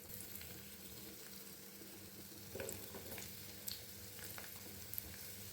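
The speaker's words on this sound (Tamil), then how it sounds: "எல்லாத்தையும் நல்லா வதக்கி விட்டுக்கலாங்க." Garlic, onions, green chillies, ginger and curry leaves sautéing in a pan for a coconut-free chutney, a faint, steady sizzle with a few soft crackles and spoon knocks, close and without talk.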